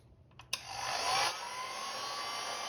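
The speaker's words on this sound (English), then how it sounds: "Slowly apply heat along the full length of the spine using a heat gun on a low setting." A heat gun on a low setting warming the spine of a paperback book: a couple of faint clicks, then a steady airy whir that swells briefly before settling into an even, moderate hum.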